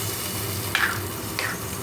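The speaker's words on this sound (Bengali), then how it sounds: "পোস্ত দিয়ে দিলাম এবার নাড়াচাড়া করে" Boiled potatoes and poppy seeds are stirred in a hot pan, a continuous low sizzle broken by two brief scraping strokes of a spoon.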